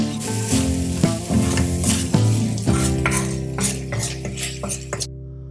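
Turmeric powder and salt are stirred into tomatoes frying in a pan, with a steady sizzle under repeated scraping and clinking of a utensil against the pan, loud and close, with no talk.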